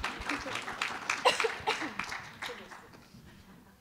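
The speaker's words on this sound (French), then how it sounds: "Oui, on peut applaudir Mireille." Conference audience at the French equestrian federation congress in Avignon applauding, a medium clatter of clapping mixed with some laughter and voices that fades out toward the end.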